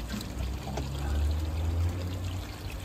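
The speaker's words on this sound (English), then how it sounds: "I am putting this water in my pond" Water pours from a bucket into a koi pond, a close, steady gushing splash lasting the whole moment with no speech over it.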